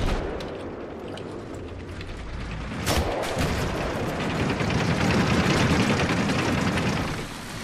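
Tank rumbling through a Battlefield 3 multiplayer battle, a heavy continuous engine and track roar with a sharp blast near the middle and gunfire layered over it, loud and close.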